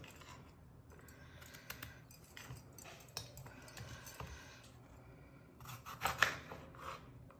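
A knife cuts bitter gourd in a home kitchen, giving quiet, close taps and slicing clicks spread through the stretch, with a louder crisp cut near the end.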